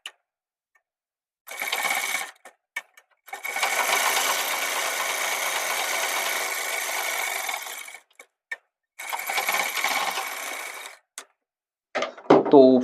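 Sewing machine stitching the collar of a child's pathani kurta, running in several steady bursts of a few seconds each with brief pauses and small clicks between them, close and fairly loud.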